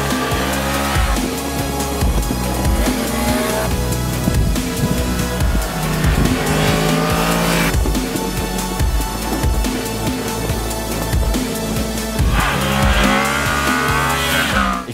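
A Yamaha MT-10 motorcycle ridden hard, engine revving and rising through gears with sharp shifts and swells, loud and continuous throughout.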